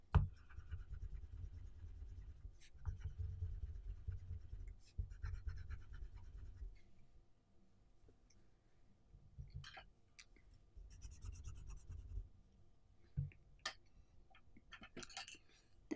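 Burnt sienna colored pencil blended across paper in a portrait drawing, heard close up as bursts of dry, scratchy strokes separated by quiet pauses and a few sharp ticks.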